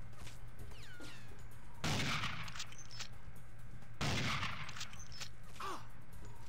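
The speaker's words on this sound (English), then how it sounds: "I am shooting them in the deck." Gunfire rings out on an airfield in the James Bond 007 NightFire PC game, two loud sharp bursts of shots a couple of seconds apart over a low steady background hum.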